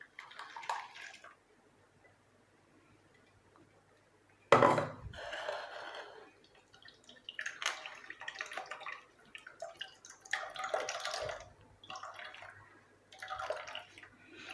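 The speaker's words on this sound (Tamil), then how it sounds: "ஒரு வடிகட்டி வச்சுட்டு இதை அப்படியே நீங்கள் ப்ரெஸ் பண்ணி எடுத்துருங்க." Mashed karpooravalli leaves with water are pressed through a strainer, giving soft wet squelches, drips and occasional clinks of a utensil against a vessel in irregular bursts, close and fairly quiet.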